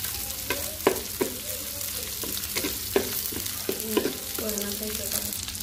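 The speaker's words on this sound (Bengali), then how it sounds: "এখন চিংড়ি মাছগুলো দিয়ে ভালো করে ভেজে নিব।" Shrimp frying with lightly browned onion in a pan gives a steady close sizzle, broken by repeated scraping and knocking strokes from stirring at an uneven rhythm, with no talking.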